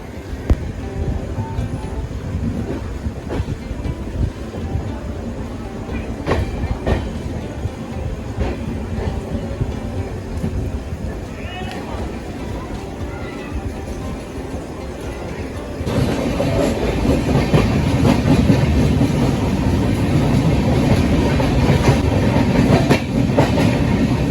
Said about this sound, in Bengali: অবশেষে তাহলে আমাদের ট্রেন বর্ধমান জংশনে ঢুকলো ঠিক পাঁচটা বেজে কুড়ি মিনিটে